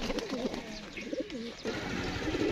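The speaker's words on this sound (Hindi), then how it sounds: "एक मोगला सा कबूतर दिखा रहे हैं, ये भी लड़ता हुआ कबूतर है" Fighting pigeon in a bird-sale setting coos close by: a few soft, warbling throaty coos over quiet background noise.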